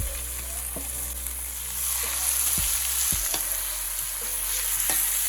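Chicken pieces dropped one by one into a hot wok for a Bengali-style chicken curry, sizzling and frying steadily with stirring scrapes and a few sharp clanks, close and loud, with no talking.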